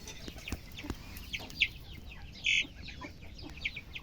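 A hen and her small chicks on a farm, faint soft peeps and clucks scattered over a quiet background, with one louder brief call standing out near the middle.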